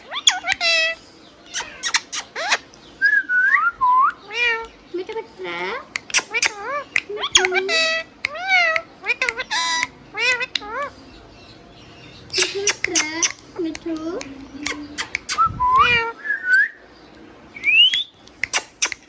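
A hand-tame green parrot close by gives a string of bright, chirpy whistles and voice-like chattering calls in quick bursts, with short pauses between them and no other sound around.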